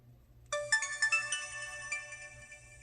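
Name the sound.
Sprint PCS phone start-up ringtone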